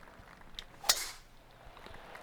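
A single sharp club strike on a tee shot in the golf video game PGA 2K23, a brief crisp crack standing alone over faint game ambience.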